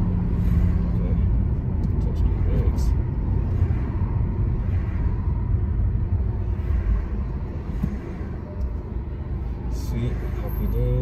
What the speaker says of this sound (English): so just let the car roll.